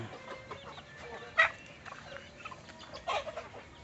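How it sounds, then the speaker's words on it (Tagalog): Free-range chickens, including Rhode Island birds, cluck in short, soft calls at a moderate distance, with one brief louder call standing out over a quiet farmyard background. "Oy, na may usa ka manok."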